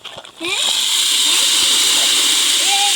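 Liquid poured into a pot at an outdoor picnic, a loud, steady rushing splash that starts abruptly and continues without a break, with faint voices in the background.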